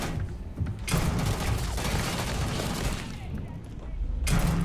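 Sniper rifle gunfire in the video game Starfield, with loud sharp shots opening a burst of crackling fire and a second blast near the end, mechanical clatter between.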